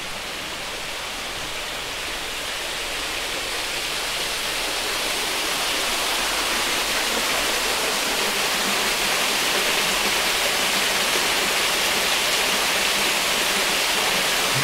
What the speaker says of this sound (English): Oh look, we can go underneath the waterfall.